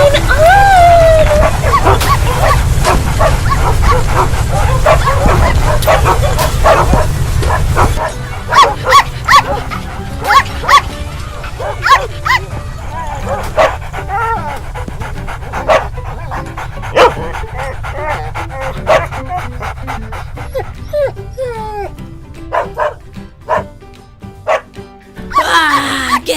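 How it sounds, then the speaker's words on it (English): Several dogs barking, yipping and panting in a playground park, loud and close in rapid bursts, mixed with whimpers, while people talk over them throughout. "Oh my gosh, where did all these dogs come from?"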